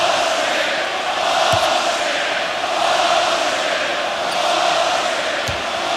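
A large basketball arena crowd at a Celtics–Pistons playoff game roars and boos in a loud, sustained wash of disapproval over a foul call, with a couple of faint ball bounces beneath.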